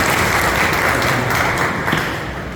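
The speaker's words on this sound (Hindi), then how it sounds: "आप ताली बजाइए, मुझे ताली बजाइए।" Audience applause at a poetry gathering, a full, even burst of clapping from many hands that fades slightly toward the end, with no talk on top.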